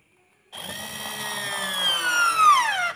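A cordless screwdriver drill drives the smallest screw into a block of hard wood, making a steady high motor whine that rises slightly in strain over about two and a half seconds, then stops abruptly.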